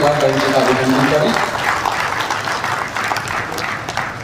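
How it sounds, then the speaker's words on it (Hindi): A crowd at a BJP district workers' gathering in Mehrauli, marking Shyama Prasad Mukherjee's sacrifice day, claps loudly in a dense burst that starts right after a short stretch of voice and continues steadily. "जोरदार तालियों से एक बार बहन जी का अभिनंदन करें"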